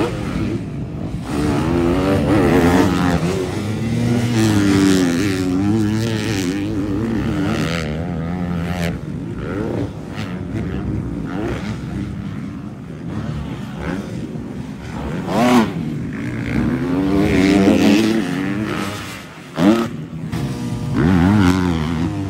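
Motocross bikes roar through a ten-minute heat at a supercross training track, engines droning loud and continuous with revving pitch swings as riders accelerate and shift, the combined buzz filling the air without pause.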